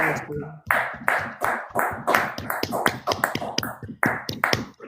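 A church congregation claps in a steady, rhythmic beat, the sharp hand claps repeating loudly and evenly while voices call out and cheer over them.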